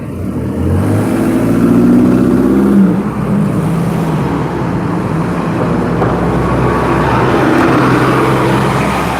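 Steady, loud road traffic near a park rolls on continuously, with car engines revving and vehicles passing in an unbroken wash of noise and no talk.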